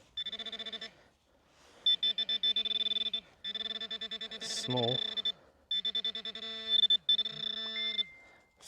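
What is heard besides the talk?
mobile phone ringing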